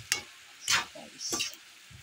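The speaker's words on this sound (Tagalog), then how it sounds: "paghalo-halo ay para maluto ang alugbati" Adobong sitaw with alugbati leaves being stirred in a frying pan, a few distinct scraping strokes with soft sizzling between them, close and moderately loud, no voices.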